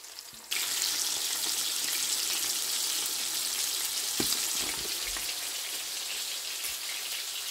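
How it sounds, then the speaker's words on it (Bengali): Tilapia fish pieces fry in hot oil, a dense, steady crackling sizzle that starts abruptly and runs loud and continuous, with an occasional louder pop partway through. "মাছ ফ্রাই হোক।"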